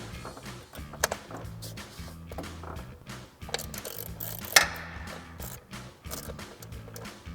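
A 7mm socket on a ratchet loosening an ignition coil bolt on the valve cover of a 2005-2008 Mustang, with repeated close mechanical ratcheting clicks in short bursts.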